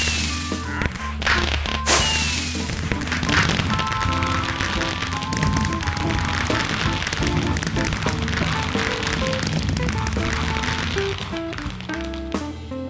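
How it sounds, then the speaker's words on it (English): A fireworks spell goes off in a video game near a whale: two sharp bangs open a loud, dense run of crackling pops and bright chiming tones that continues throughout. "I decided to try a fireworks spell"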